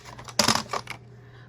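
A Cricut paper trimmer slices through a piece of card in one short, close swipe, a brief scraping crunch that fades out within about half a second.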